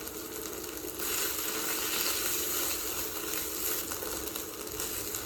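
Food sizzling loudly in a hot pan while being stirred, a dense continuous crackle that swells slightly after the first second and holds steady, no voices.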